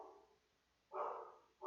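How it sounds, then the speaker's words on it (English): A dog barks downstairs in a house, two muffled, distant barks separated by a pause and faintly picked up through a microphone in another room. "The nice mic will pick up the dog barking now."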